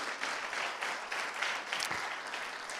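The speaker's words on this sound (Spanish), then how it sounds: "¿Cuánto le dan un aplauso al Señor," A church congregation applauding, a dense wash of hand claps at moderate distance, steady for under three seconds with no voices over it.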